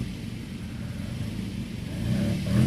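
An MGB 1840cc car powers up the Prescott hill climb course. Its engine drones steadily at mid distance, then swells louder toward the end as it pushes on, with no voices.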